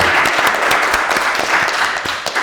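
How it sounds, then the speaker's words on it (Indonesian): A classroom group applauds a student team after it presents on CH4 content in coal. The clapping is dense and sustained, close by and lively, and no speech is heard. "Kasih aplaus kelompok 3."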